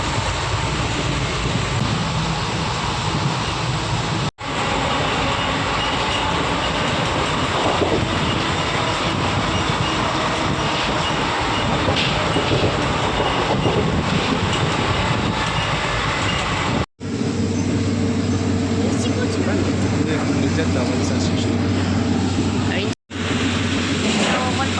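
Passenger train from Surathkal toward Gujarat running at speed, a loud continuous rumble and rush of wheels and wind with brief cutoffs, heard from onboard, with voices talking at points.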